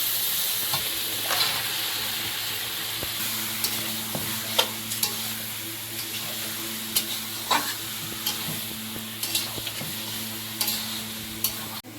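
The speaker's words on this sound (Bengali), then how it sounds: "ভালো করে নেড়ে চেড়ে একটু ভেজে নিয়েছি" Meat is turned and fried in a pan over a steady sizzle, with a utensil clicking and scraping against the metal in scattered, uneven knocks, close by, under a low constant hum and without talk.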